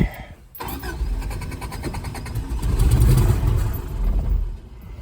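A 1984 Subaru Brat that sat unused for ten years cranks loudly up close as someone tries to start it. A rhythmic starter chug churns for several seconds, the engine labouring without fully catching.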